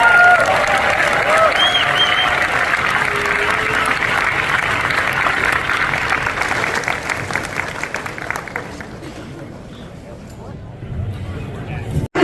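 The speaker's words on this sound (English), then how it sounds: "let's give everybody a round of applause" A big convention hall audience at San Diego Comic-Con applauds a panel for the Invincible 20th anniversary with cheers mixed in. The clapping is loud and sustained, then tapers off toward the end as voices take over.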